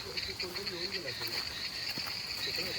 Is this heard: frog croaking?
yes